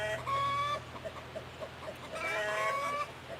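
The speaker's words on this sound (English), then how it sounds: "Neighbors say anything about the noise from the chickens?" Backyard chickens on an Arkansas homestead cluck and squawk in short bursts, a few calls rising and falling near the microphone over a low steady hum.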